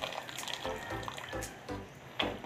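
Boiling water is poured into a cooking pot of sinanglaw, an Ilocano beef dish, and splashes in a steady stream. The liquid gurgles and sloshes with small clinks and knocks, at a moderate level with no talk.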